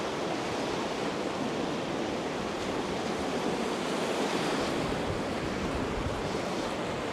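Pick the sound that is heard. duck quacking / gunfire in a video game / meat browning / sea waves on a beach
sea waves on a beach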